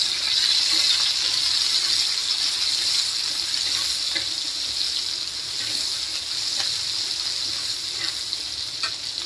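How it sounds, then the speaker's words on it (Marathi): Chopped onion sautéing in a pan for a Khandeshi matki dal, with a steady bright sizzle that holds level throughout, up close and without speech. "कांदा पण टाकून देऊया. थोडंसं परतून घेऊया."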